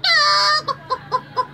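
A voice imitates a chicken: a long, loud, strained squawk followed by five short, evenly spaced clucks, close and clear with no other sound.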